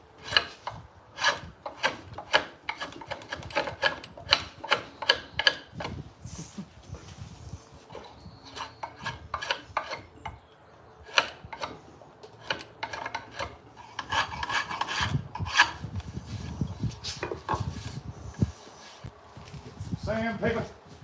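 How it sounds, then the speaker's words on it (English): Scraping dirty old chemical varnish off a rusty magnet-fishing find, a run of quick rasping strokes, close and fairly loud, with talk breaking in between bursts. "We gotta scrape all that crap off. All of that. Dirty, disgusting, chemical varnish."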